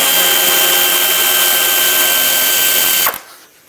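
A power tool backs out a 7 mm bumper bolt on a 2006-2011 Chevrolet HHR, whirring steadily and loudly for about three seconds before it cuts off and winds down.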